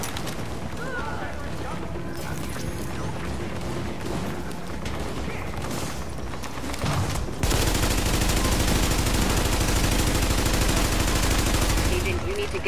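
Sustained gunfire from the video game The Division, dense rapid bursts filling the clip and growing louder and more continuous in the second half, with players talking over it.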